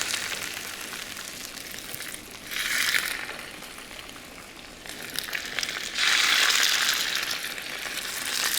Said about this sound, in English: I put in 2 tablespoons of vegetable oil. And I'm just going to cook the salmon,